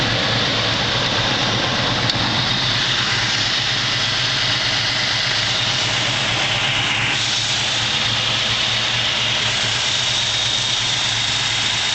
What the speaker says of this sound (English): show you the engine running